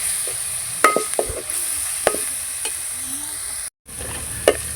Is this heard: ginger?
yes